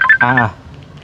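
Short telephone dialing tones beep in quick succession, close and clear, before fading into a quiet room where a voice speaks briefly.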